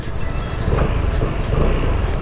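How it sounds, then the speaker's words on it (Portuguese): A Lambretta X300 scooter runs on the road with a steady, close engine drone mixed with rushing wind noise throughout. "a motinha tem um cantar muito fixe"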